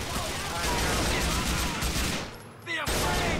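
Dense video game gunfire in Grand Theft Auto 4, a continuous loud barrage of rapid shots with a brief lull before it resumes, with a voice faintly under it.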